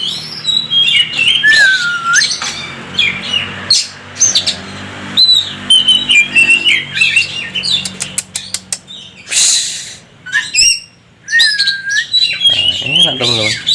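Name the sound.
kacer (magpie robin) songbird calling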